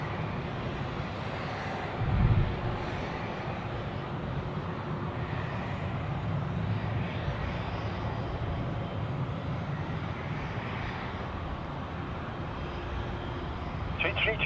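A departing aircraft rolls down the runway at Zurich Airport, a steady broadband engine roar heard from a distance that holds throughout, with a brief thump near the start and faint voices in the background.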